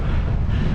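Wind buffets the microphone of a cyclist riding a road bike, a dense, continuous low roar and rumble close up, with no voices.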